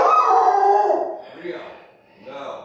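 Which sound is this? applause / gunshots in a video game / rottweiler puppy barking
rottweiler puppy barking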